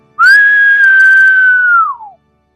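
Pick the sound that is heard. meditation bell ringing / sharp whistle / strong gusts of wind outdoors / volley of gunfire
sharp whistle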